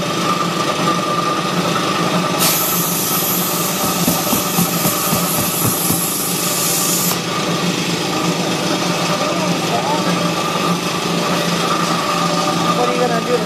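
An air compressor runs steadily through the whole stretch while a truck tire is mounted by hand onto its rim, a loud continuous mechanical drone with a hissing burst of air partway through and people's voices mixed in underneath.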